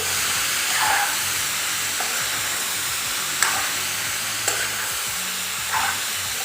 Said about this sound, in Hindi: इसको करना है ऑयल के अंदर फ्राई